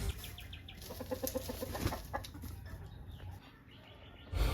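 Several chickens cluck and murmur at moderate distance on a busy rural farm, followed by a loud thump near the end.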